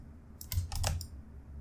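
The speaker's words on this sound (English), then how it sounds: "I'm just pressing Control D on the keyboard" A few quick key presses on a computer keyboard during an Inkscape drawing session, a short cluster of soft clicks close to the mic over a quiet room background with no talking.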